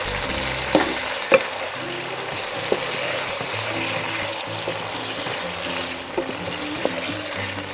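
Pre-fried vegetables go into sizzling chicken jalfrezi in a pan, bringing a steady close frying hiss with scattered sharp clacks of a spoon or ladle against the pan as the mixture is stirred.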